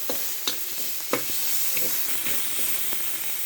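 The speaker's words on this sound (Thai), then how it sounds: "เสร็จแล้วเราก็ผัดพริกแกงให้หอมครับผ ม ผัดไฟเบาๆนะครับ" Thai curry paste being stir-fried with a little oil in a pan over low heat, giving a steady soft sizzle broken by a few light scraping stirs of the spatula, close up and with no voices.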